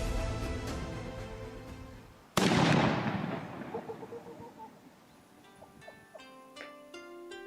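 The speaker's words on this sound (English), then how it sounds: "the gun captain, Nishibori Taicho, opens the display with a shot from his Tanzutsu" A single loud crack from a Tanzutsu small matchlock pistol, fired to open a samurai gunnery display, breaks out suddenly and rolls away in a long fading echo, leaving faint background noise afterward.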